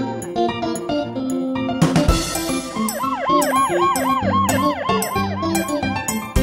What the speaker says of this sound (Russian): Здесь скорая помощь по имени Донна.